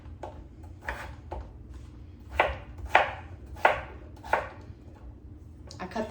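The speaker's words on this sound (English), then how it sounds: "I'm just gonna cut these into smaller pieces so it cooks faster." Knife chopping potatoes into smaller pieces on a board, a handful of crisp separate cuts at an uneven pace, close and clear with no speech.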